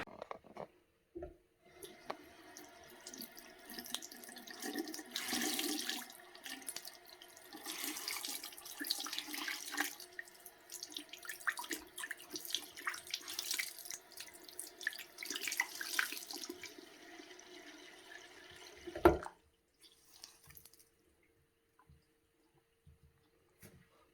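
Bathroom tap water running over a makeup sponge, a steady close splashing stream that changes as the sponge is moved under it, ending in a sharp knock and then quiet.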